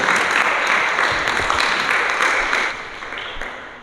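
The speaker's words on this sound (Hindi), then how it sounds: "जोरदार ताली।" Loud applause from the audience at a Swami Vivekananda speaking competition for children in Talegaon, Pune: dense, steady clapping from a large crowd that thins slightly toward the end.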